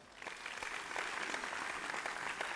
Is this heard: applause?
yes